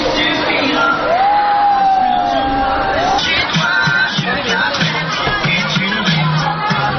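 Riders scream on the Cliff Booster amusement ride, a long rising and falling shriek followed by more yells and whoops over a noisy crowd, moderately distant.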